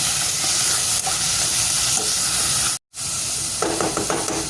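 Chopped leeks sauté in a pan for egg rolls, with a loud, dense hiss of frying filling the clip, one brief dropout, then a few light scraping stirs near the end.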